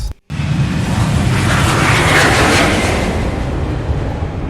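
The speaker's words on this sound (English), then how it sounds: "Here I found a jet plane takes off of runway close" Jet plane taking off from a runway close by, a loud continuous roar of engine noise that swells and holds steady after a brief gap at the start.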